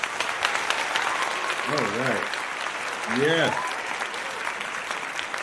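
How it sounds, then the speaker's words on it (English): Audience applause rolls on as a steady bed of clapping while a couple of people talk briefly over it. "We got the applause here too."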